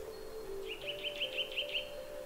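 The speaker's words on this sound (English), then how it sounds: "Can you hear this bird?" A bird calls in a quiet winter forest, a short series of about six bright, evenly spaced chirps over a faint steady hum, moderately distant.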